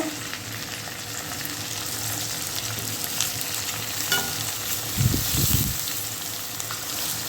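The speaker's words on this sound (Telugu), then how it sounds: "ఈ ఆయిల్ వేసి వేయించేసుకుంటాను" Eggs frying in oil in a pan for a prawn and egg curry, giving a steady, even sizzle with occasional stirring scrapes and a brief louder bubbling burst.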